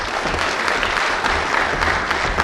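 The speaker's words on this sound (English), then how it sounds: "So please join me in a big round of applause for Belle Beglinger, Savannah Clendenin" Full-room applause at a school speech night as team members are introduced, a continuous even roar of clapping hands with no break.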